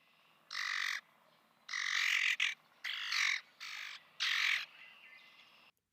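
A common grackle gives harsh, raspy squawking calls in four loud bursts separated by short pauses, close and alone against a quiet background.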